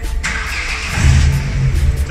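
A car engine, freshly repaired that same morning, turns over and catches about halfway through, settling into a low, steady idle close by.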